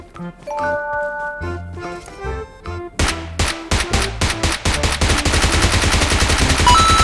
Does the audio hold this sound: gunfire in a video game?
yes